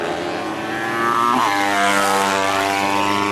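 Mini GP Pro racing motorcycles whine loudly and close at high revs, holding a strong buzzing engine tone that shifts pitch as a bike passes, then settles into a steady high drone.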